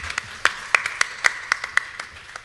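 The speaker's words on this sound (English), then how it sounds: "Please give him a hand of applause." A handful of distinct claps from a convention panel audience at a race and inequality forum, sparse and uneven, fairly faint, with no voices.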